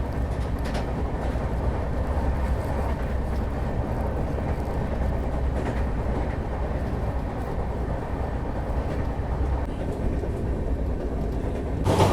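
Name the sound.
Chennai-Bangalore double decker express train departing Arakkonam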